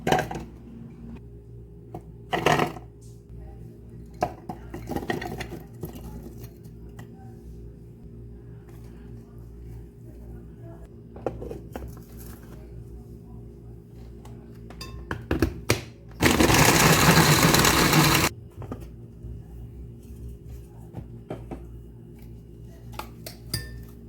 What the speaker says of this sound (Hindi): अब हम चीज़ों को चॉप करते हैं